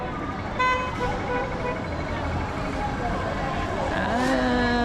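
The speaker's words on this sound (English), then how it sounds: "This guy's really honking his horn a lot with a cigarette" A car horn toots several times in busy street traffic on Pozi Street in Changsha, China, short tonal honks rising over a steady hum of road noise and engines, fairly distant.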